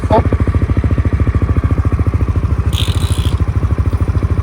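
A motorcycle engine pulses in a fast, even rhythm, heard close and loud while riding, with a brief higher-pitched rattle partway through.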